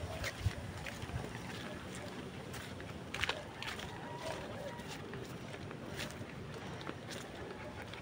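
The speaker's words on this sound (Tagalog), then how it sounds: "Malakas ng hangin." Strong wind gusts buffet the microphone outdoors in steady, rough noise with a few sharper bumps, while people talk faintly nearby.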